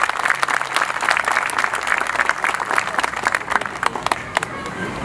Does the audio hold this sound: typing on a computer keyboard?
no